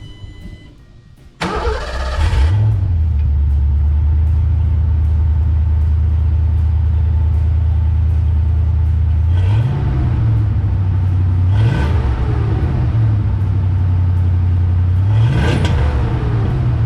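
A foxbody Ford Mustang GT 5.0L V8 with a Flowmaster 817574 exhaust cranks and fires up loud and close, settling into a deep, steady idle broken by three sharp throttle blips that rise and fall.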